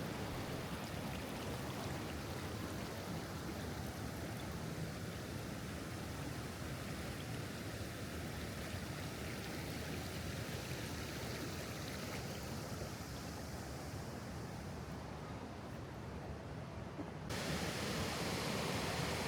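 Continuous broadband rush of a river flowing past stone stepping paths, steady and enveloping like a fast river or cascade, with no voices.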